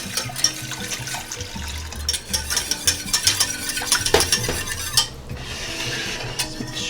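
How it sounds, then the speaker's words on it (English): Beef broth is whisked into cooked flour and oil for gravy, with liquid pouring and sloshing, rapid whisk strokes rattling against the pan, and a short pause before stirring resumes. "I have a cup of beef broth. Adding slowly and whisking it in."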